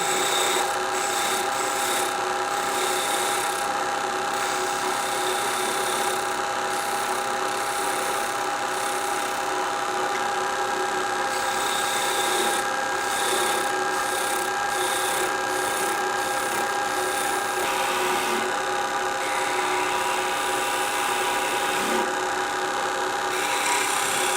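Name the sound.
skew chisel smoothing wood on a lathe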